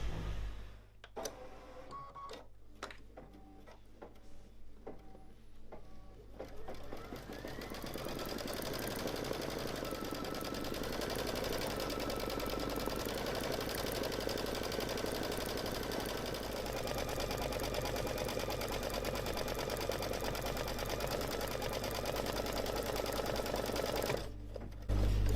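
A Brother Luminaire Innovis XP1 embroidery machine stitches in a steady, fast mechanical whir, starting after a few clicks and running continuously and loud before stopping near the end.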